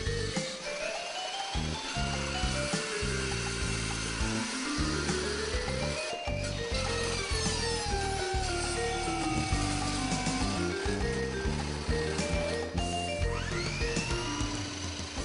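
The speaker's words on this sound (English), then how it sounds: "Cutting with a steel cutting saw blade allows high-speed cutting not possible with a cut-off wheel." A steel cutting saw blade slices through stainless steel with a loud, sustained high-pitched whine and shifting tonal screech, steady throughout with brief dips as the blade engages.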